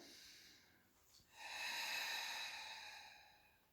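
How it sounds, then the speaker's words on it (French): During a Pilates exercise, a slow, breathy exhalation through the throat swells up after a short nasal inhale, close and soft, with no talking. "inspire par le nez, expire par la gorge"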